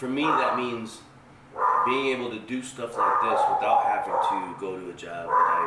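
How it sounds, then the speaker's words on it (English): A pet dog indoors yips and barks repeatedly at someone walking on a trail behind the house, the barks overlapping steady close talking from a woman. "Excuse my dog. She's probably somebody out walking on the trail behind her house."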